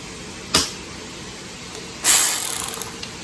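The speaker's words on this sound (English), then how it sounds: "I'm using the impact wrench, but I'm using this impact wrench right here, which doesn't have enough torque to snap off a stud" Impact wrench working the studs on a fuel pump: one short burst, then after a pause a longer loud burst with rapid hammering that fades away, close and with no talk.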